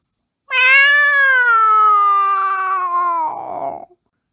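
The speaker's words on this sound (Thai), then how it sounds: "เสียงแมวร้องดังขึ้น" A single long, loud meow from a nearby cat, drawn out and wavering before breaking into a rough, grating ending.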